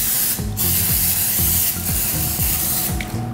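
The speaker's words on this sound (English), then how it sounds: "So could you get the cooking spray?" Cooking spray hisses into a baking dish for bread pudding in loud repeated bursts, several short sprays close by with brief pauses between them, no talking.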